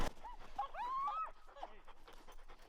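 Bird dogs in harness on a sled team whine, yip and pant close by, in short overlapping bursts and breaths.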